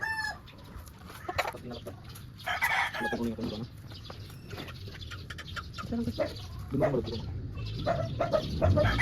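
Young rooster stags on a free-range farm crow repeatedly at close range, their calls overlapping with clucking from other chickens throughout.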